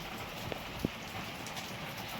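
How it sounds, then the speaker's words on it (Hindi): Heavy rain falls outside as a dense, steady hiss with a couple of brief knocks, filling the whole stretch without any talk. "बाहर देखे भाई कितनी भयंकर बारिश लग गई घर आते आते"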